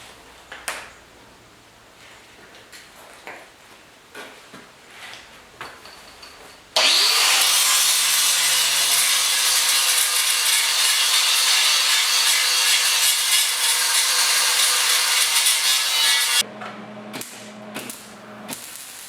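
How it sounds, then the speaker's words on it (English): Angle grinder working over the welds on a steel rear bumper being built for a 1956 Mercury/Ford: a loud, steady high-pitched grind runs unbroken for about ten seconds, with quieter clanks and shop handling before and after. "Continue on with the grinding."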